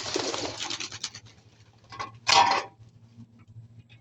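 A Tiger Grizzle racing pigeon coos softly after returning from a 20-kilometre training flight, with low repeated coos and rustling wing and feather sounds close by.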